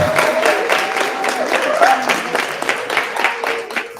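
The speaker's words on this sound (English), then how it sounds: "So let's clap it up for our community leadership." Audience applause at a live community radio event, a mix of clapping and crowd noise with voices and cheering mixed in throughout.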